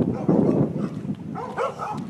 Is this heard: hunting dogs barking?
yes